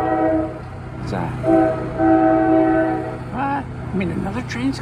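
A train horn blasts several sustained tones over the low rumble of a passing train, heard from the Philadelphia Art Museum porch, with a person talking briefly near the end.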